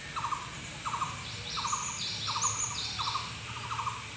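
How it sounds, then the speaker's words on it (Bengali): Birds call repeatedly from nearby at Neel Sagar, a pond in Nilphamari, with short bright chirping bursts at a steady rhythm over a soft breezy outdoor background, no one talking. "আপনারা শুনতে পাচ্ছেন পাখির শব্দগুলো শোনার চেষ্টা করেন"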